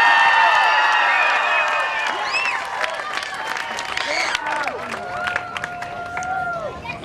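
At a Milton Academy K-12 school rally, a big crowd cheers, whoops and applauds, the roar loudest at first and then easing into ongoing clapping and scattered shouts that carry on to the end.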